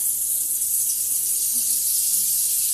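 A pan sizzles with a steady, loud frying hiss that holds evenly from start to finish with no break.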